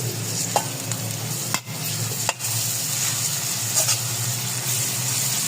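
Steady sizzling of garlic-ginger paste in a hot pan with occasional scraping stirs of a spoon, continuous and close, with no talking.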